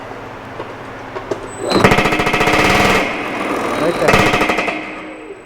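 A Baileigh PH28 power hammer shaping sheet metal pounds in two rapid, loud, rattling bursts, the first longer than the second, with quieter shop noise between and a brief spoken word.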